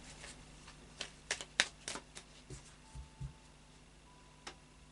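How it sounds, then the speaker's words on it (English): Light Seers Tarot cards being shuffled by hand, a run of quick, close riffling snaps and soft flicks clustered in the middle, then a few lighter taps trailing off over a quiet room. "I'll just do a final shuffle of the Light Seers Tarot now"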